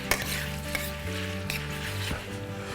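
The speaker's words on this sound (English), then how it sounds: "As you can see, the heat is still on the pan. It's gonna sizzle a little bit," Lemon parmesan pasta sizzles in a hot pan while being stirred, giving a steady frying hiss with clinks and scrapes of the utensil against the pan, close and clear with no talking.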